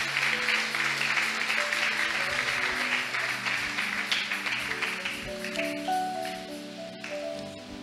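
Audience applause rises through a church servants' conference hall, a dense steady patter of many hands held at a strong level under sustained musical tones, then easing slightly toward the end.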